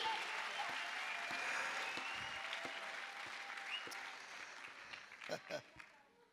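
A church congregation claps together in sustained, fairly loud applause that gradually thins out, with a few sharp louder claps near the end.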